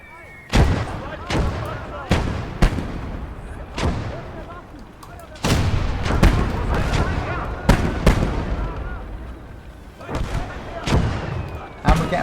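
Mortar fire in a World War II strategy video game: a series of sharp, booming shell blasts arriving in irregular bursts, some in close succession and others spaced apart, with rumbling between impacts.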